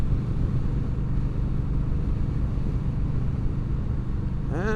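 Indian Scout Bobber motorcycle riding over a bumpy, broken road, its engine a steady low rumble with wind noise close by, unbroken for the whole stretch.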